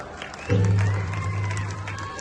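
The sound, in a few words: applause for Ramlila artists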